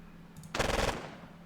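Automatic gunfire from the Squad Battles Dien Bien Phu war game, a single short burst of rattling shots lasting under half a second, moderately loud against a quiet low hum.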